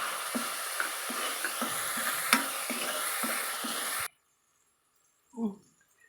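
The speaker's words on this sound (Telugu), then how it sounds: "దీన్ని కొంచెం రోజ్ కలర్లోకి వచ్చే వరకు ఫ్రై చేసుకుని పచ్చివాసన పోయే వరకు బిర్యానీ స్పైసెస్ వేసుకుని" Onions frying in a pan with biryani spices for a chicken biryani with leafy vegetables, a steady close sizzle with soft stirring scrapes for about four seconds, then near silence broken by one brief low knock.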